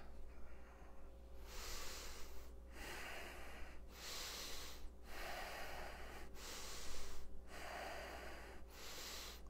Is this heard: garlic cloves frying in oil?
no